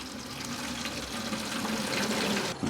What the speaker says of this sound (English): We're filling this bottle.